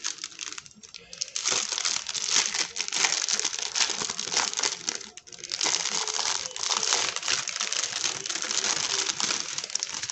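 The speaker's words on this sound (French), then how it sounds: "je vais ouvrir le paquet" A plastic packet of diamond painting drills is opened and handled, giving continuous close crinkling and crumpling for several seconds, with a brief lull midway.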